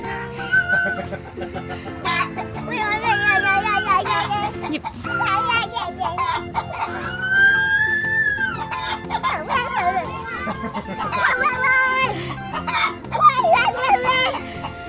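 Chickens clucking at a farm cafe in Bang Khun Thian, close and intermittent amid a busy mix of children's voices and adult chatter throughout.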